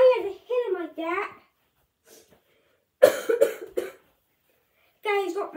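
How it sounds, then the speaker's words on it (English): A few sharp coughs come in a short burst between bits of nearby talking at a college football game, with a quiet pause in the middle. "You're going to hear me cough for quite a bit"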